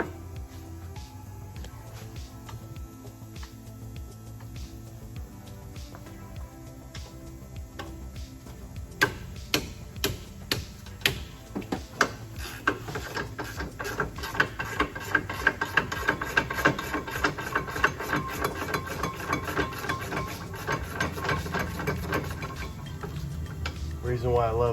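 A ratchet clicks in rapid bursts while loosening a rear brake caliper bolt on a Chevrolet Equinox, with a steady background hum and dense ticking that grows busier partway through.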